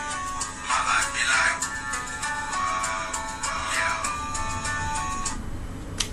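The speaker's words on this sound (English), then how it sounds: "That's my phone." A mobile phone rings with a repeating electronic melody, bright tonal bursts recurring for about six seconds at moderate loudness, with no talk over it.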